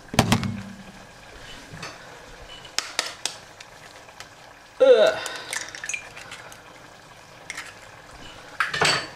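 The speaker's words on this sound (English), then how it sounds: "that was a live egg being cracked again" An egg is cracked for chicken parmigiana, with a sharp crack and splatter midway among scattered clinks of bowls and utensils, close and fairly quiet, with a short rustle at the start and more clatter near the end.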